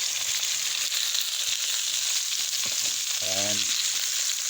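Beef browns in a pan for Hungarian goulash with a constant loud, close sizzle and occasional stirring scrapes; a short tonal clatter of a utensil or pan rings out near the end.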